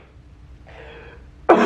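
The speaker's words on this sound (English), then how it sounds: "I'm gonna be coughing throughout this whole video" A mildly sick person clears their throat softly, then lets out one loud, sharp cough close to the microphone, with no talking.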